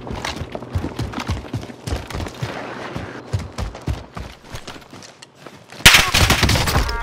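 Sniper and rifle gunfire in a battle royale video game, a rapid run of sharp shots and bursts, near and loud, with a heavier burst of fire near the end and no talk.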